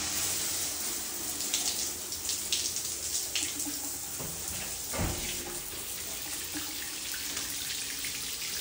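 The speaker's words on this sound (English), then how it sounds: "now I'm just gonna turn on the water and just rinse it out." Water from a bathroom shower rinsing out a freshly scrubbed stall, a constant close splashing hiss throughout, with a brief heavier splash near the middle.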